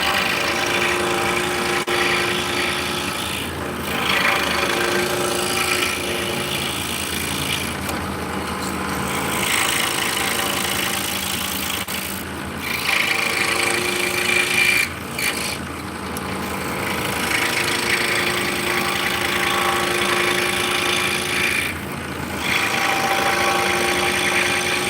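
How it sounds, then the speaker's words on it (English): A scroll saw cutting out an internal opening through a drilled hole, giving a steady loud motorised buzz with rapid blade vibration that dips briefly a few times. "the cool thing about a scroll saw is you can make internal cuts"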